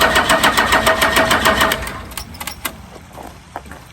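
12-valve diesel truck engine with a VE pump cranking on a weak battery, a loud rapid rhythmic chugging of the starter for about two seconds that slows and fades into scattered clicks and knocks without catching.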